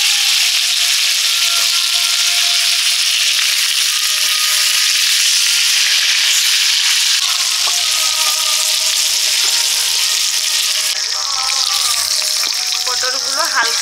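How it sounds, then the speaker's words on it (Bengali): Whole pointed gourds (potol), slit on both sides and coated with salt and turmeric, fry in hot oil in a Bengali village kitchen, producing a loud, continuous close-up sizzle with faint voices near the end. "নুন হলুদ দিয়ে পটলগুলো ভেজে দিচ্ছি মাছের ঝোল করার জন্য।"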